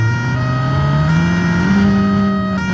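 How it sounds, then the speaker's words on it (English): Wailing siren on the Cherrier Vivace police car in BeamNG.Drive, a steady rising and falling electronic tone with a constant engine drone underneath, loud and close, no talking. "Take a listen to that siren,"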